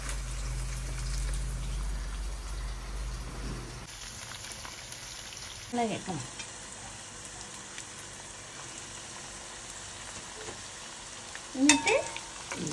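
Garlic, ginger and green chilli fry in a pan with a faint, steady sizzle, broken by a few clinks and stirring sounds and a brief word spoken.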